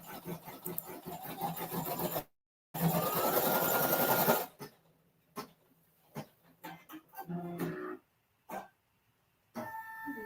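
An embroidery machine stitches a design in a steady fast whir, broken by brief pauses and a run of short bursts and taps, close and moderately loud with no talking.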